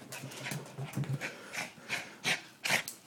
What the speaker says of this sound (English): Ah, who's a happy puppy?